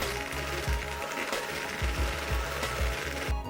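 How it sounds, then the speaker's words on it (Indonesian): An electric mixer whips cream at high speed, its motor whirring loud and close with a rapid, rhythmic mechanical chatter. "Kemudian mixer dengan kecepatan tinggi hingga mengembang dan kental."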